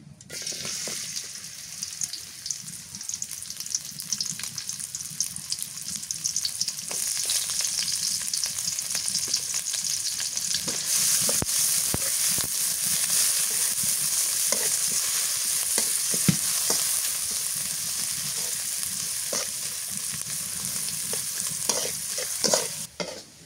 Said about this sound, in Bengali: মাগুর মাছ ভুনা করবো তো, পেঁয়াজ কুচি দিয়ে দিই।